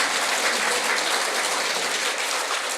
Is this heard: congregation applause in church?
yes